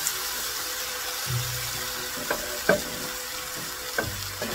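Spinach sautéing in a pan: a low steady sizzle under occasional clinks and scrapes of a utensil stirring the greens, with a few quiet taps spaced over several seconds.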